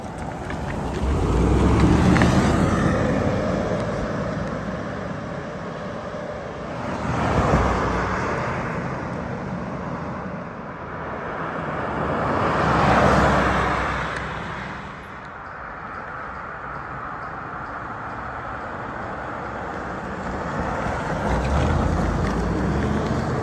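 A 1999 Toyota Land Cruiser 100 series drives past on a road several times, each pass swelling from distant engine and tyre noise to a loud close rush and fading away, with no talking.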